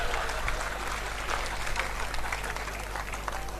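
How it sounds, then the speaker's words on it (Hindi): Audience applause at a comedy poetry gathering (hasya kavi sammelan) in Ashok Nagar, a steady spread of clapping under a constant low hum from the sound system. "उसके अगले जवाब पे तालियां चाहिए"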